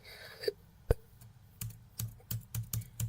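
Soft, close keystrokes on a computer keyboard, about a dozen light taps at an uneven pace while text is typed in, with a quiet room behind and no talking.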